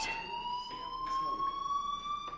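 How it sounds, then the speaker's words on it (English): Fire alarm ringing in the video game Life Is Strange Remastered, a steady high electronic tone with pulsing overtones that sounds continuously, moderately loud and slightly distant, with no talking. "do you hear that fire alarm?"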